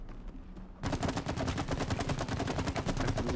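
Rapid gunfire aimed at a bottle in the video game It Takes Two, a dense run of sharp repeated shots that starts abruptly after a quiet moment and continues loud and steady to the end.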